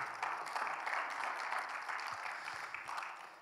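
A congregation at a Bible seminar claps together in soft, steady applause, fairly faint and distant, with no talking over it.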